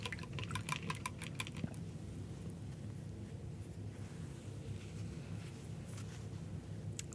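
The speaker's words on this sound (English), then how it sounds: "dropping my brush in the water" A paintbrush dropped into a water jar and swished clean, with a few brief clinking taps at the start followed by a steady low rinsing and sloshing wash that continues alone.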